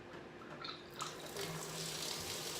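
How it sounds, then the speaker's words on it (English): Wort draining from a mash into a brew pot while sparging for a homebrewed ale, a soft steady pour of liquid, fairly faint and close, with no talk. "we're sparging over into our brew pot"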